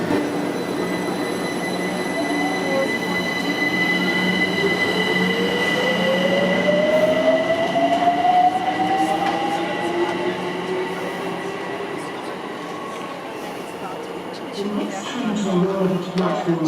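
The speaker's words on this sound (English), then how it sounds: "Let's get on this train over here, head off to West Hampstead" London Overground train to West Hampstead, with a rumbling carriage, rising and falling electric motor whine and wheel squeal. The sound runs steady and fairly close throughout.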